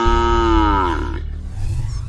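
A cow bellows one long, loud, close moo in a Sundarbans forest setting as a large snake approaches it, the call dropping off into a low rumbling tail.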